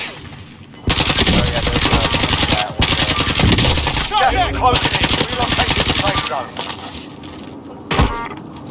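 Heavy automatic gunfire in the Call of Duty Warzone video game, loud sustained bursts with brief gaps, close and dominant, with players' voices talking over it.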